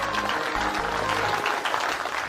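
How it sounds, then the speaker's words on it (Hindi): A crowd gives a brief burst of loud, dense clapping to welcome a couple at an engagement celebration in a TV drama. "तो जोरदार तालियों से स्वागत करिए इस ब्यूटीफुल कपल का"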